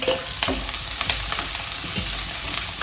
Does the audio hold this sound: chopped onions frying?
yes